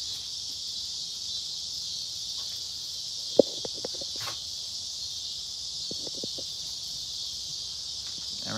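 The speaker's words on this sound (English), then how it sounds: "We got locust cicadas around here." Locust cicadas drone in a steady, continuous high buzz throughout, with faint scattered clicks and rustles in the foreground and no talking.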